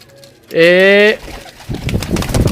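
A pigeon gives one loud, drawn-out coo close by, followed by soft rustling and shuffling noises.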